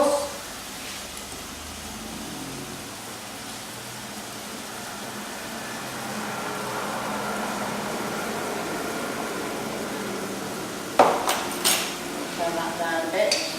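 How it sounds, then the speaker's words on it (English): Low, steady sizzle of cottage pie filling with tomato puree and Worcestershire sauce frying high in a pan, with a few clinks of a utensil against the pan near the end. "it's frying quite high"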